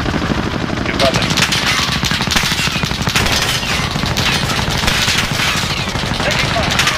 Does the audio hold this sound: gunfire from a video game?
yes